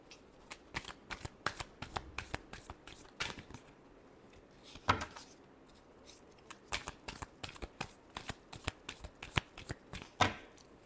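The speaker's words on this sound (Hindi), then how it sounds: "last shuffle" Tarot cards shuffled close up, in rapid bursts of crisp riffling and slapping card sounds with brief pauses between rounds.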